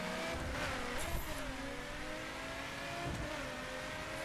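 A car engine in The Crew video game driving test, revs and drones steadily at moderate volume with slight pitch rises, heard alone without speech.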